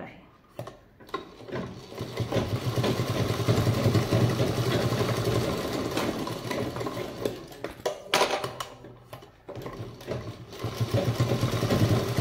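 A sewing machine stitches a cloth samosa bag, its motor whirring steadily up close. The run is long and continuous, with brief stops and starts near the beginning and again toward the end. No one speaks.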